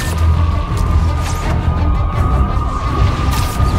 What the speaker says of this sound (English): That explosion looked bad.